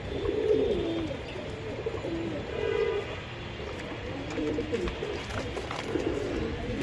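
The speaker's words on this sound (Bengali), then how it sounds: "এই যে জোড়া কবুতরটা দেখেন" A pair of racing or fancy pigeons cooing in soft repeated low bursts, moderately close, with a steady background hum and faint mutter of voices.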